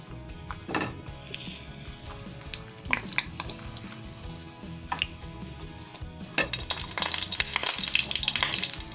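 Pieces of chile pepper fry one at a time in hot oil for red Guanajuato-style enchiladas, giving a steady sizzle with clinks of utensils against the pan, then a louder, brighter crackle as more chile hits the oil.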